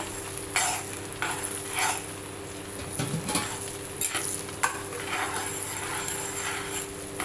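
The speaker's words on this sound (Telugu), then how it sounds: "బాగా ఫ్రై అవనిద్దాం ఇది." Dried red chillies and cumin tempering in sesame oil give a continuous, close sizzle and crackle with some bubbling and spoon stirring, growing busier toward the middle and going on without talk.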